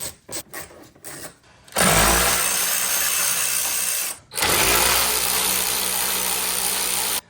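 A power tool spins out an E-Torx bolt holding a car's bumper cover. Two sustained, loud whirring runs are heard, each starting after short blips, with a brief stop between them, close up and without speech.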